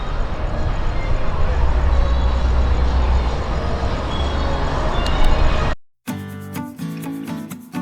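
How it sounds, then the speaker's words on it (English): A steady roar of traffic on busy Camelback Road rumbles low and continuous, near and fairly loud, before cutting out abruptly and giving way to a different, tonal sound near the end. "the traffic noise from the busy Camelback Road"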